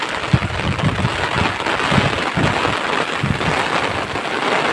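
Steady heavy rain with gusting wind buffeting the microphone outdoors in the Konkan countryside, a continuous loud wash with low thudding gusts.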